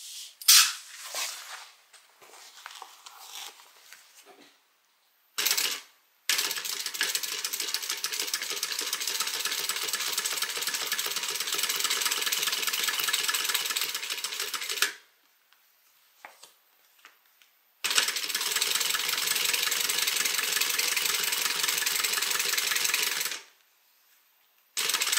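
A sewing machine top-stitching a seam on a fabric beverage bag, running in long steady bursts of rapid mechanical stitching with short pauses between them, close and fairly quiet.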